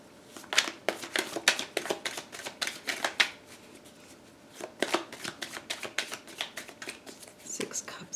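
A tarot deck is riffled and shuffled in quick bursts of crisp card flutters and slaps, close and fairly loud, pausing once midway before resuming.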